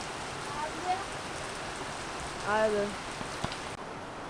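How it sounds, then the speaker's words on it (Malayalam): Heavy rain pours down as a dense, steady hiss on surrounding surfaces, close and continuous, while a voice speaks briefly over it. "നല്ല മഴ പെയ്യാൻ തുടങ്ങി"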